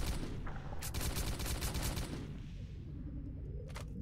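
Gunfire in the video game S.T.A.L.K.E.R.: Call of Pripyat comes as a rapid burst of repeated shots, then a pause and one more short shot, all fairly faint over a low background rumble.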